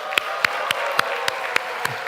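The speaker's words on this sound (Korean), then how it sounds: "다시 한번 박수 한번 하겠습니다." A church congregation at a Sunday service claps in steady unison, sharp evenly spaced claps about four per second ringing through the hall with a soft crowd wash beneath.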